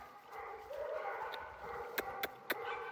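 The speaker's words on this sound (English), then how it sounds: "Come here, puppies." Young puppies yipping and whimpering close by, thin whines rising and falling, then three short sharp yips near the end; no talking.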